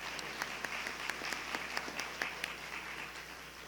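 An audience at a North Carolina National History Day awards ceremony applauds for the named high schools, a dense, steady wash of many hands clapping in a large hall, even in loudness throughout.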